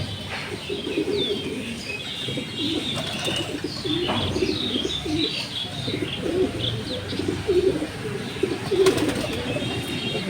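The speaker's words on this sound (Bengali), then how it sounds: "এটা নর কবুতর" Male racing pigeon of the Koopman line, a 2020 bird, cooing in a loft among other pigeons, with soft repeated coos, chirps and occasional wing flaps over steady low background bustle.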